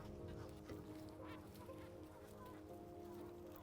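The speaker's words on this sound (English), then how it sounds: "No, That's a goose." A goose honks faintly in the distance during an outdoor nature walk, a few soft calls over a low, steady background hum.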